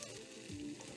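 A hamburger patty topped with cheese fries on a griddle, giving a faint, steady sizzle heard close up for a moment with no voices.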